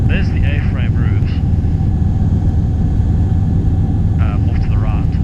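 Light aircraft engine drones steadily inside the cockpit on a VFR flight along the Durban south coast, a constant loud low hum with a pilot speaking over the intercom at the start and end.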